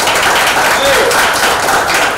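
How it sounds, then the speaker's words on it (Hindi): Dense, steady applause from an audience at a song launch event fills the whole stretch, loud and continuous with no clear gaps. "इनके लिए एक बार ताली बजाएं"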